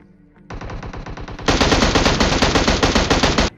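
Rapid automatic gunfire while shooting an enemy in a battle royale video game: a steady burst, then a louder, denser stream of shots for about two seconds, close and alone.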